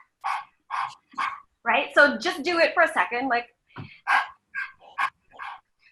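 A group of people imitate a dog panting during a breath of fire breathing exercise, making a quick run of sharp, rhythmic huffs in short bursts while one person talks between them.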